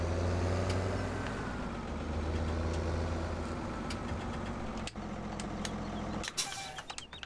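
A John Deere 7430/7530 tractor engine in Farming Simulator 17 hums steadily at a low idle-like drone, holding even and close throughout with a brief dip and a short clatter near the end.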